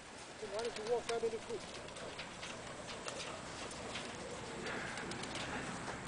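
Pigeons in a coop give a soft, wavering coo early on, close and fairly quiet, followed by a steady hum of ambient noise with scattered faint ticks.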